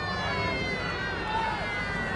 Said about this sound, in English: So there's the siren